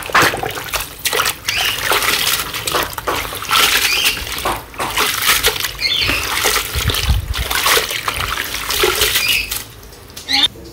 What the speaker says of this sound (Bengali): এখন আমি শাকগুলো ভালো করে ধুয়ে নিই, ধুয়ে নিয়ে তারপর রান্না করবো